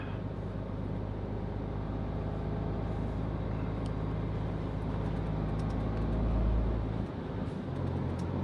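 A car drives on a cold, wet winter day, its engine and road noise forming a steady low rumble from inside the cabin with no voices.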